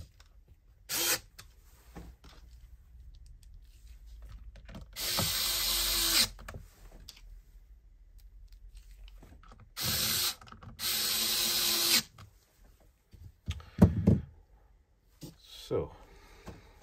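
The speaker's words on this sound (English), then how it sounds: "And put the screws back." Screws driven back into a Harman Kardon Onyx Studio speaker with a power screwdriver, giving several loud whirring bursts a second or two long, separated by quieter handling and clicks, close to the mic.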